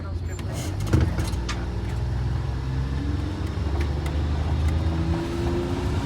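An MCI 5C bus with an upgraded Detroit Diesel 6V71 pulls away at full throttle, its deep diesel roar climbing steadily through the run, with a voice heard briefly over the engine.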